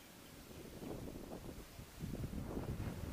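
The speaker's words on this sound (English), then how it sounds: "Big gust of wind coming." A gust of wind buffets the microphone outdoors on the water, a continuous low rumbling roar that swells stronger in the second half, close and loud.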